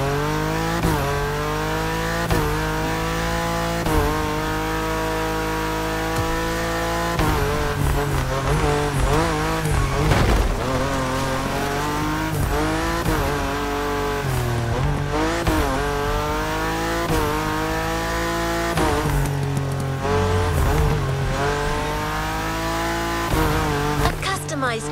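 A customized Lamborghini Aventador roars through a racing game, its engine rising and falling through repeated gear shifts with tire squeal, loud and continuous, while a voice talks over parts of it.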